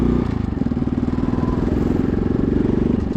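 A Honda Grom motorcycle rolls slowly along a trail at walking speed, its small engine giving a steady, close, low putter that runs continuously throughout.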